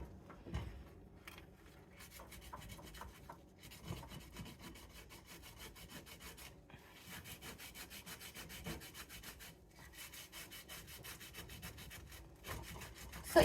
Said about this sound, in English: A little bit of scrubbing.